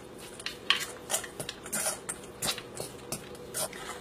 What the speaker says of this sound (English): Fork, mix it up a little bit.